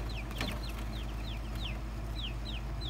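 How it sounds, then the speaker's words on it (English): Ten-day-old chicks in a brooder cheeping repeatedly, evenly spaced high descending peeps over a constant low hum, with a few soft scratches. "Just super healthy looking chicks."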